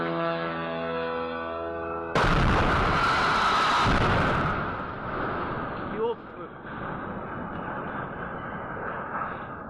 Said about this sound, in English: this video is going to show a direct impact from a drone